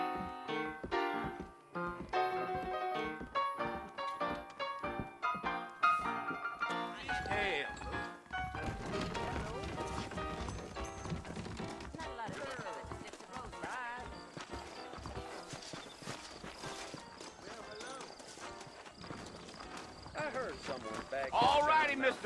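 Horse hooves clip-clop in Red Dead Redemption as saddled horses move through a town, steady and fairly close, mixed with game music and talking voices.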